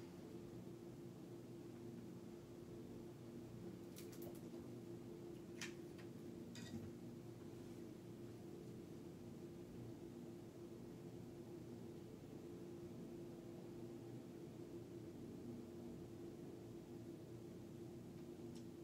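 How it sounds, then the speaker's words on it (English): A steady low droning hum of heavy machinery, distant and continuous, with a few faint clicks early on. "There's a cement mixer right down the street pouring."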